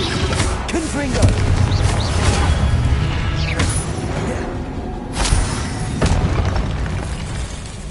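A Confringo blasting spell in Hogwarts Legacy erupts in several booming explosions amid continuous game combat noise, with a voice present in the mix.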